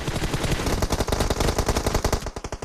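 Automatic gunfire from a competitive video game scrim rattles off in rapid, loud bursts of shots that slow into separated pops toward the end, with no voices over it.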